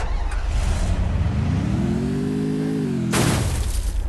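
A motorbike engine in a video game idles, then revs up in a loud rising and falling whine before cutting to a sharp burst of noise, heard close with no talk.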